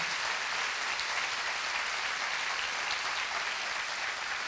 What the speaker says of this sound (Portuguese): E você está fazendo o que para não aplaudir esse Deus?